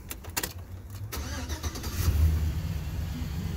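A 2004 Chevrolet Silverado crew cab pickup engine cranks with a few quick clicks and catches, then settles into a low, steady rumble, close by and heard alone.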